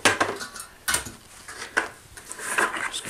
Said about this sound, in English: I'm just going to give it a little mix because it's been sitting here for a minute.